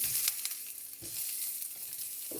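Onion fries gently in a pan over low heat, a soft continuous sizzle with a few faint clinks and stirring taps, fairly quiet and close.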